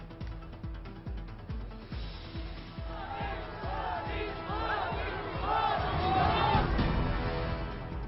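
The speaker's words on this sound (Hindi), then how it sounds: "पीएम मोदी के रोड शो में उमड़ी भारी भीड़" A large, dense crowd gathers at a prime minister's road show in Bhuj, Gujarat, its roar swelling steadily louder over about eight seconds with a low rhythmic thumping beneath the shouting.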